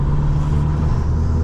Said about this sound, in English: It sounds like it's pushing more power than it actually is, which is why I love this induction kit.